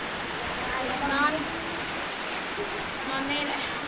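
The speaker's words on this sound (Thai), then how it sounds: "เบิ่งฝนแบบนี้น้ำเต็มทางอยู่แหละพี่น้อง" Heavy rain pours down in a continuous, moderately loud hiss, with faint voices talking underneath.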